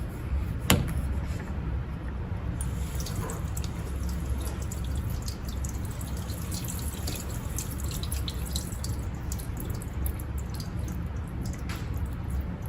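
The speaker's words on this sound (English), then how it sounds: "I'm running under cold water" Tap water running steadily over a plate in a sink, a constant splashing wash with occasional sharper drips and clinks over about twelve seconds.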